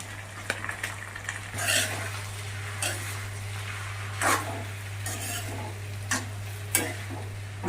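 Sago khichdi with boiled potato sizzles steadily in a pan while a spoon stirs and scrapes against the metal in irregular knocks, close and moderately loud.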